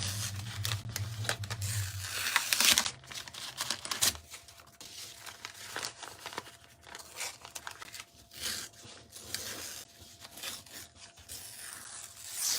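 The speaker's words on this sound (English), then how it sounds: "Tear my paper here." Paper torn by hand during a craft session, a few sharp ripping bursts early on followed by softer rustling and scraping, close and fairly quiet, with no one talking.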